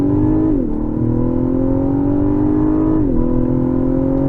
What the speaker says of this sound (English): We're gonna do a quick 0 to 60.